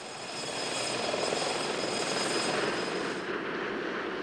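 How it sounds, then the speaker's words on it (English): A Westland Lynx navy helicopter landing on a ship deck gives a broad, steady rotor and turbine roar that swells in over the first half-second, then holds and eases slightly near the end, with no talk. "Lynx can touch down and maneuver on deck without restricting the ship's tactical freedom"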